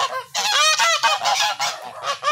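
Noisy geese honk repeatedly nearby, a clamor of overlapping nasal calls in quick bursts with brief gaps between them.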